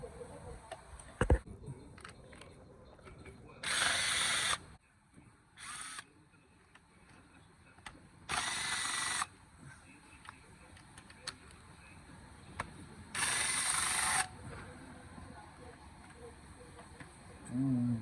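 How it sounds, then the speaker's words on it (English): Ratchet with a T30 bit removing valve cover bolts on a VW Jetta 2.5 SE, several bursts of rapid clicking about a second long, separated by quiet gaps, close by. "we're gonna use T30 to remove all these bolts around the valve cover"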